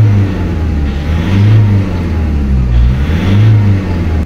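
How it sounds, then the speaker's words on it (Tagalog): A car engine revs up and down in smooth, repeated swells, loud and close, with a low droning tone rising and falling over a few seconds and no talking. "So ngayon i-try lang muna nating i-rev at mag-observe po tayo"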